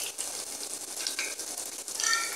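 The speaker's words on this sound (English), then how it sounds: "That's my tofu frying." Chunks of tofu fry in a pan with a steady, dense sizzle and crackle, close and continuous, with a slight rattle or stir near the end.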